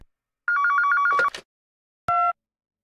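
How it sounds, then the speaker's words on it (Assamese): A telephone rings loudly and near: a fast warbling trill lasting about a second, then a brief pause and a shorter, steady ring tone, with silence around them. "ফোনটো ৰিং হৈ আছে কাৰো খবৰে নাই"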